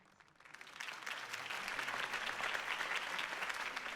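A crowd in Batman: The Telltale Series breaks into applause that swells quickly and holds steady, a dense wash of clapping hands from many people.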